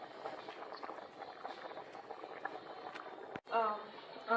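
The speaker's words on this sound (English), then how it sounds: "So the sausage is inside and everything is just boiling" Faint bubbling of spaghetti and sausages boiling in a pot of water in a home kitchen, a low simmering texture under a person talking.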